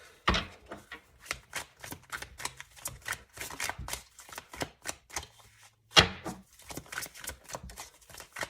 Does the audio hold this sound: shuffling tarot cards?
yes